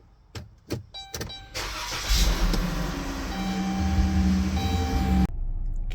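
A car starting up and pulling onto the road on a chilly spring morning in Central Florida, a few door and handling knocks first, then a steady close engine hum that holds and ends with a sharp clunk.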